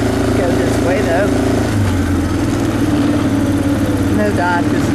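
An ATV engine drones steadily while riding across rough farm ground, a loud continuous motor hum with shifting pitch and bumpy rattling, and someone talks over it.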